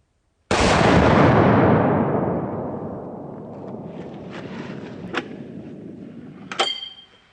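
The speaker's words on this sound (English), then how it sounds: "I'm just gonna shoot this into the hill" A .500 Nitro Express rifle fired into a hillside outdoors: one very loud, close blast that rolls off into a long decaying rumble, with a couple of sharp knocks near the end.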